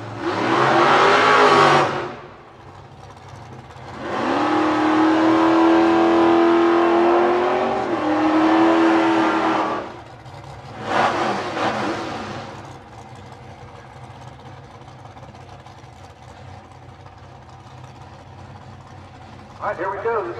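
A Chevy Duster and a dragster at a drag race rev their engines loudly in several separate bursts, with rumbling idle between them and a voice talking over the track noise.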